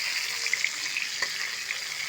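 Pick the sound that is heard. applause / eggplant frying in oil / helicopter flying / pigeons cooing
eggplant frying in oil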